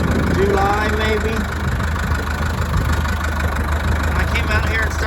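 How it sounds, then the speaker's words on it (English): A tractor engine idles with a steady low chug and a persistent drone, running on throughout while a person speaks close by over it. "Started this tractor probably since about"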